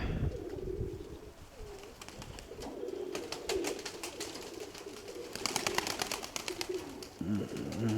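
Pigeons coo outdoors near trees, soft repeated low cooing phrases running through the scene at moderate distance, with someone talking intermittently and a camera's clicking bursts over the birds.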